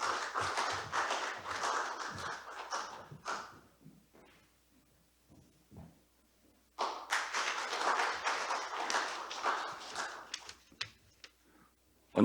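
An audience at a Korean labour forum's opening ceremony claps to welcome a speaker. A burst of applause fades to near silence with a few stray claps, then a second round of clapping swells and trails off.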